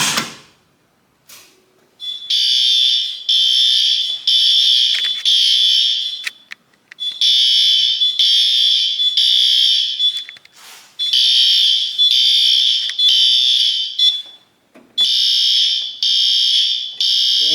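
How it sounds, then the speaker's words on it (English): A garage fire alarm system sounds after its pull station is pulled, a loud, near electronic horn pulsing in rapid bursts grouped into repeating cycles, with short gaps and faint clicks between them. "Let's go ahead and pull this pull station over here and see the system go off."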